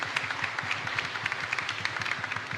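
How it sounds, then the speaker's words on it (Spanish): A church congregation at Mass applauds together, producing a dense, steady patter of many hands clapping at moderate loudness throughout. "Fuerte aplauso entonces para..."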